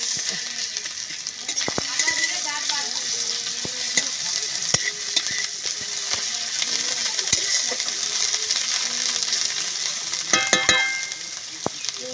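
Ginger and garlic frying in a pan: a loud, steady close sizzle with occasional clinks and scrapes of stirring, running without pause, no talking.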